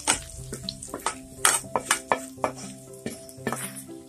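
Fried duck meat tipped from a pan into a pot, with repeated clanks and scrapes of a metal spoon against cookware over a faint sizzle, close and irregular, no talk.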